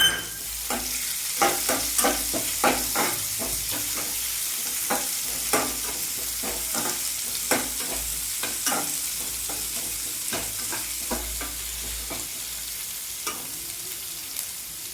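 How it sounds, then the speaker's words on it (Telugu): Finely chopped onions with curry leaves frying in a pan for jowar rava upma, a soft continuous sizzle broken by frequent sharp scrapes and clacks of a spoon stirring. "ఇలా సన్నగా తరిగి పెట్టుకున్న ఉల్లిపాయలు వేసుకుని కొంచెం వేగనే"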